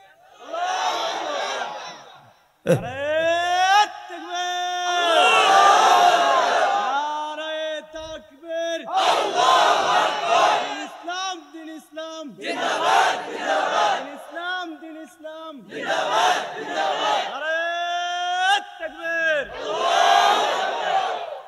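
A large crowd at a religious gathering shouts takbir, with repeated loud, drawn-out, rhythmic chanted cries rising and falling in waves through the whole stretch.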